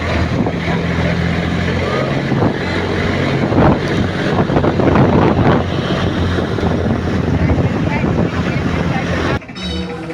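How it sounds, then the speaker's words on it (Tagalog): Strong sea waves and gusting monsoon wind around a small boat, a loud continuous roar of wind buffeting the microphone over crashing, splashing water, with brief surges near the middle and a sudden drop near the end. "Malakas ang alon guys."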